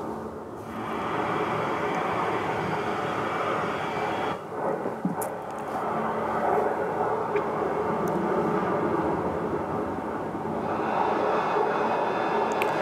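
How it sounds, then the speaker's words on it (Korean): An airplane flies in during a 2023 aircraft-accident and disaster-response drill at an airport, with a landing gear problem reported; a steady, heavy engine roar rumbles on for the whole stretch, with no voices over it. "비행기가 날라오죠?"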